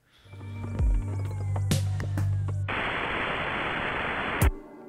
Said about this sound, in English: gives a feel like the radio's gone dead and that it's changing to something else